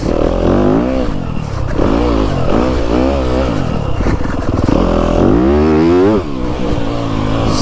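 A 2025 Yamaha YZ250FX dirt bike engine runs close and loud, its pitch rising and falling through repeated revs and shifts, with mechanical clatter underneath.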